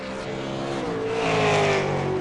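A V8 Supercar in qualifying at Lime Rock with a loud, rising engine note as it accelerates and passes close, harmonics sweeping upward, then a touch of tire noise as it runs wide.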